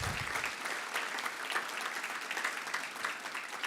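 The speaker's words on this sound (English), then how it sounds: "Let's just give Alan and Julianne another round of applause" Conference audience at a gun rights policy event gives sustained applause, a dense, even wash of many hands clapping throughout.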